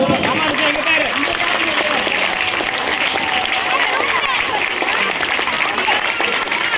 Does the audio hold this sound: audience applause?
yes